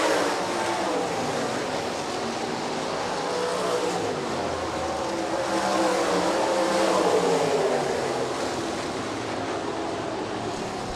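360 sprint cars of the Midwest Sprint Touring Series race to the finish line at Rapid Speedway, their engines making a loud, steady, dense roar that holds unbroken throughout with no voices.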